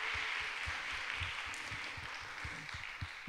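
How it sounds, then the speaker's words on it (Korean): Applause from a church youth congregation at a Sunday service, a dense steady clapping that holds throughout and fills the room. "다 들어가실 때 한 번 더 큰 박수 부탁드립니다"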